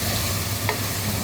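Potato and pepper stew simmering in a pan, a dense, even bubbling hiss held close with a faint single stir partway through.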